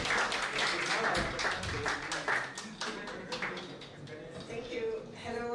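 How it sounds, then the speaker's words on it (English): At the grand finale of the MEST Africa Challenge 2022, the audience applauds Team Queen, a dense burst of many hands clapping that gradually thins and fades, with voices audible underneath. "Please help me welcome with a round of applause"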